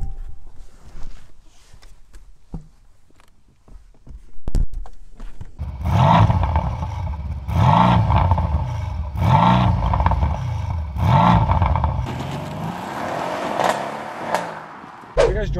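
A 2020 Mercedes C63S AMG engine cranks to life after a few clicks and door sounds, then settles into a deep, throbbing idle with rhythmic swells of revs, close and fairly loud.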